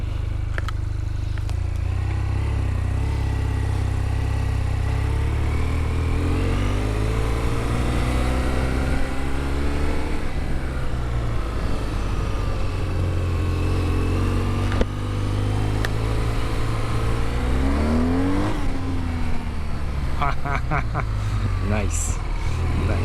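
Steady engine drone of a 2026 BMW R 12 G/S motorcycle idling close by after its warm-up, with wavering tones as the revs settle; a few faint clicks near the end.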